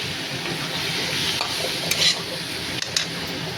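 Cumin and mustard seeds tempering dal in hot oil: a steady close sizzle and frying hiss with a few light clinks of a stirring utensil against the pot, no talking.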